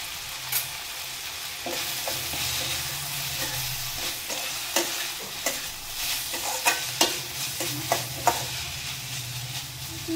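Tomato and onions sauté in a pan with a little garam masala, a continuous sizzle broken by sharp stirring scrapes and taps at irregular intervals, close and fairly even in loudness.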